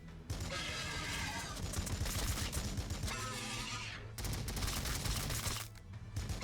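Dense volleys of gunfire in the turn-based strategy game Warhammer 40K Battlesector roar almost without pause, breaking briefly midway before a second loud burst of shooting and a quieter tail.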